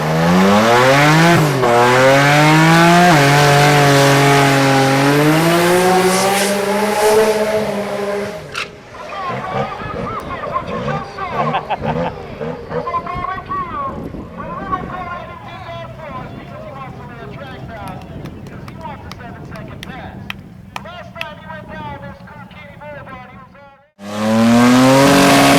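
A race car makes a shakedown pass, its engine roaring loud and close as it revs through rising and falling gear changes, then drops to a rougher lower drone with voices talking over it before the roar returns.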